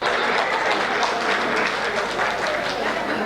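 Audience clapping at a comic Hindi poetry recital, a dense continuous wash of applause from a crowd, loud and steady throughout the short stretch.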